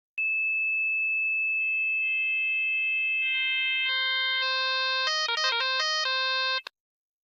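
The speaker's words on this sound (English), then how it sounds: "you'll hear the modulator start to modulate the carrier" An FM synthesizer sounds a single sustained carrier tone that grows brighter and buzzier as the modulator level rises, turning into a warbling, fluttering tone before it cuts off abruptly, with no voices.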